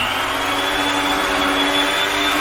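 Electric mixer whisking pavlova meringue, a loud steady whirring drone that runs unbroken and alone.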